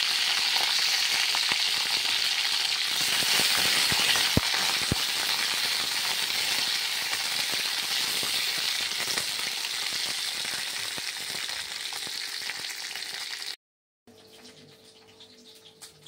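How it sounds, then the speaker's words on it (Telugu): Green chillies fry in hot oil in a pan, giving a loud, steady, close sizzle with a few sharp crackles that continues for most of the clip and then drops to a quieter sizzle after a brief cut. "కొంచెం నూనె వేడైన తర్వాత ముందుగా తీసుకున్న పచ్చిమిరపకాయలు దూరగా అయ్యేంత వరకు వేగనివ్వాలి."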